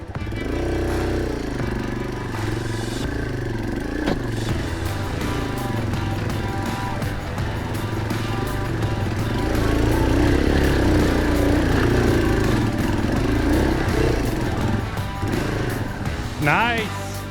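Yamaha TW200 dual-sport motorcycles on a hard enduro ride pick their way through a narrow canyon, single-cylinder engines chugging and revving unevenly up close for about seventeen seconds, with a rider talking over them.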